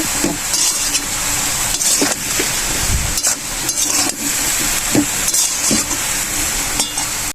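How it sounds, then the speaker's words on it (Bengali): Sliced eggplant frying in a wok, meant for a mashed eggplant dish, gives a steady close sizzle, with occasional stirring knocks throughout and no talking. "তো এই বেগুনটা কড়াইতে দিয়ে দেব।"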